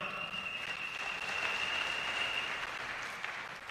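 An audience claps together at an event, a dense, steady wash of applause that holds for several seconds at moderate distance before easing slightly.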